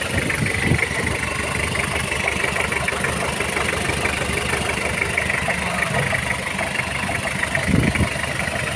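A Toyota LN106 4x4 pickup with a solid axle idles steadily up close, its mid-low engine rumble running evenly from start to finish with no one talking.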